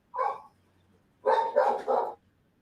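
A dog barks once, then after a short pause lets out three more quick barks, fairly faint in a quiet room with no speech over them.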